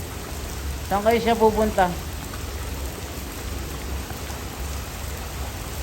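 Steady rain falls throughout a strong storm, a constant hiss, while a voice speaks briefly near the start over the downpour.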